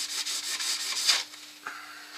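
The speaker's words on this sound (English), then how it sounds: "now it's gone off. I can buff it up." A kitchen towel rubs briskly over gold gilt on a large woodturned inside-out sphere, making rhythmic dry swishing strokes up close that build to a louder scrub, then fade to a softer final wipe.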